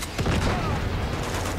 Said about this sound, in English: Okay, so they do have rocket launchers.